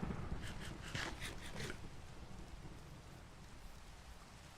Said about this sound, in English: Thunderstorm, so that everybody's going to be out and about